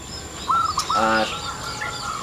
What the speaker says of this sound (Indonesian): perkutut lokal mempunyai suara yang kecenderungannya lebih kristal